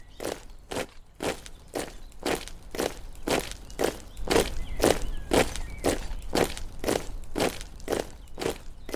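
Steady, evenly spaced footsteps and horses of a passing patrol crunching by at a walking rhythm, fairly close, with no voices; hooves cannot be clearly separated from the steps.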